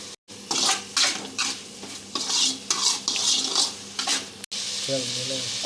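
A chicken gravy with masala, capsicum and baby corn is stirred in a pot: repeated scraping strokes of a spoon against metal over a soft sizzle, heard close with brief pauses.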